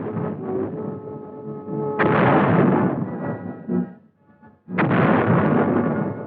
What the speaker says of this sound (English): That's a heap of shooting power, Zach.